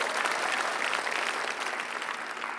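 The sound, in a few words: audience applause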